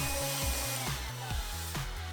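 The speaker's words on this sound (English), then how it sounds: "having a small vacuum cleaner is a lifesaver" A small vacuum cleaner picking up scribing debris while a Gunpla base is built, its motor whining steadily up close, with a rhythmic pulsing as the nozzle moves over the mess.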